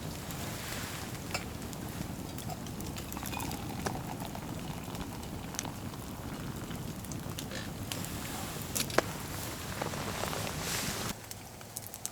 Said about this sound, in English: The rain finally started letting up a little bit